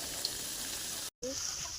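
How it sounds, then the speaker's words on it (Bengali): Potatoes fry in a pan, giving a steady close hiss and sizzle that cuts out briefly before resuming. "আলু ভাজা হচ্ছে"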